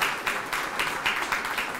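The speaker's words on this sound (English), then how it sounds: "Give me an applause for all these kids." Applause from an art-show audience at a student awards event, a steady wash of clapping heard fairly close with periodic swells, no voices over it.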